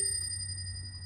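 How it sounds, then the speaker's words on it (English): A 1955 Everest K2 typewriter's bell rings once with a bright, sustained metallic tone that keeps resonating and slowly fades in a quiet room. "And then the bell, we got to take a quick bell test."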